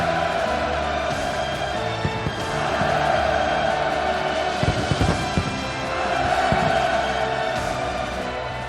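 A huge crowd at a liberation anniversary celebration roars hurrah cheers in a loud, sustained, swelling wave that surges and ebbs over several seconds with no break.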